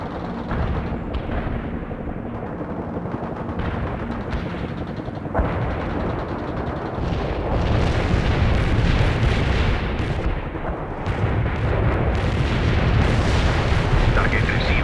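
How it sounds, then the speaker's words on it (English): Artillery barrage in the real-time strategy game World in Conflict, a continuous roar of rumbling detonations and gunfire that grows heavier partway through, loud and dense, with radio-style voices heard among the blasts. "Target received. Commencing the barrage."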